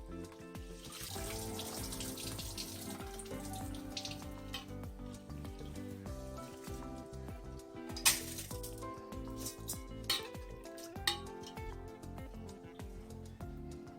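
Rice being rinsed for kitchari under a running tap fills the kitchen with a steady stream of water splashing into a vessel, with occasional sharper clinks and splashes as the grains are stirred.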